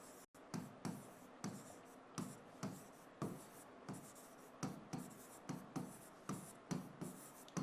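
Marker or chalk writing on a board during a lesson: a run of quick, evenly spaced scratchy strokes, close and fairly faint, with no talking.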